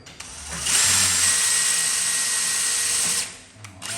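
A power drill whines loudly and steadily for a few seconds as it drives a self-drilling screw into a wrought-iron door to mount a lock, then winds down; close and dominant.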